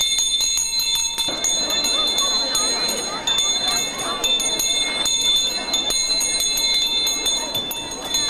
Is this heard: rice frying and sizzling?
no